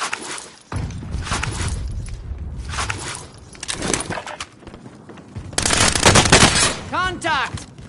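Gunfire rattles through a military video game, with dense automatic bursts and scattered shots over a continuous battle din, a louder volley near the end, and voices talking over the action.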